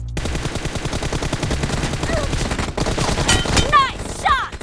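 Rapid hip-fire gunshots in the mobile shooter BGMI crack out in a steady close-range burst, followed by a few short bright metallic clinks near the end.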